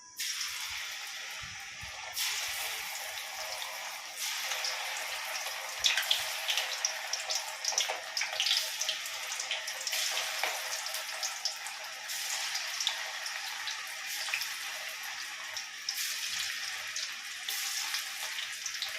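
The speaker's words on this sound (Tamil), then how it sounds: "அதை எடுத்து எண்ணெயில் பொரிச்சு எடுக்கணும்." Steady, loud sizzling and crackling of chicken deep frying in hot oil, continuous throughout with no talking.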